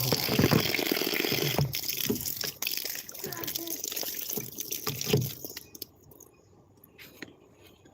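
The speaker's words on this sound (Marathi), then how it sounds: "ह्याला पाणी अजून येत आहे" Water pouring from a hose pipe onto the base of a mango tree in a village garden: a close, splashing gush for several seconds that thins to faint trickles and drips near the end.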